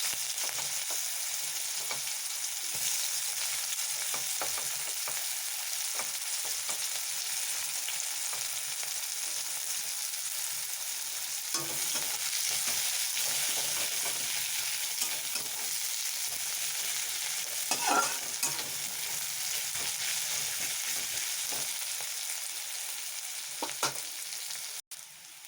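Onions frying in oil for a small-fish and tomato chachchari, a steady broadband sizzle that holds for the whole stretch, with a few soft stirring knocks and scrapes in the middle and near the end.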